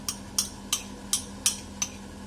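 A spoon stirs tamarind pulp into soup in a pot, six evenly spaced sharp clinks against the pot side over a faint steady hum, close and unaccompanied by speech.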